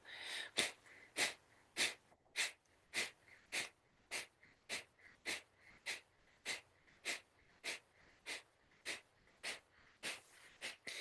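Kapalabhati breath of fire: about twenty rapid, forceful nasal exhalations in a steady even rhythm, close and fairly soft, each puff a short sharp burst with brief pauses between, no talk.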